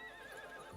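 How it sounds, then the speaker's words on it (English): Short, faint horse whinny from the video game Darksiders 3, a brief wavering neigh under a quiet background. "Horse!"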